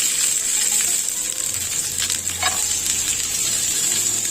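Cashews and raisins fry in a small amount of melted ghee, giving a steady, close sizzle that runs unbroken throughout, with a few light clicks as the nuts shift in the pan.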